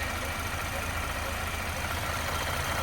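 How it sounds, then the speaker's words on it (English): A car engine idles smoothly and steadily at close range, a constant low rumble with an even mechanical hum and no talking. "Boy, that is a nice running engine. Nice and smooth."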